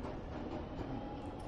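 Underwater-themed escape room train in Escape Simulator, rolling along with a low, steady rumble and a faint rhythmic clatter, heard alone and fairly quiet.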